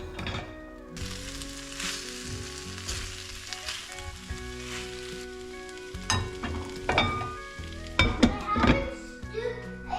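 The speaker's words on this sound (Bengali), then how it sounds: "যতক্ষণ না ব্রকলি আর বিনসটা সেদ্ধ হচ্ছে একটু ভাজা ভাজা করব" Broccoli and beans with sauces stir-fry in a pan, with a steady sizzle running throughout and utensil scrapes and clanks growing louder toward the end. Background music plays beneath it.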